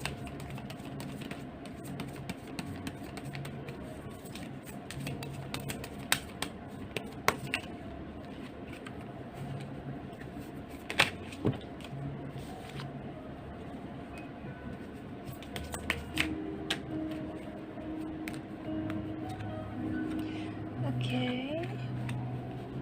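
Tarot cards are drawn from a deck, making soft, close flicks, slides and light taps scattered across the span, under a speaking voice.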